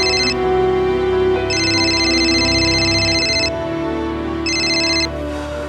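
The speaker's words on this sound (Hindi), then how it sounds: "एक काम करो, उस विकास को फोन करो।" A telephone rings in repeated electronic bursts with pauses between them, over a low steady background hum; no one speaks.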